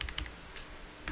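A computer keyboard clicks in a few quick key presses, sharp taps in small clusters at the start, middle and end of a short, fairly quiet moment.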